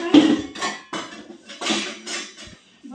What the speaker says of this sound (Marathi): यांचं घरात चाललंय भांडी धुयचं